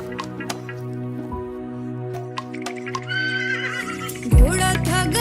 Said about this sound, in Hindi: घोड़ा था घमंडी, पहुंचा सब्जी मंडी।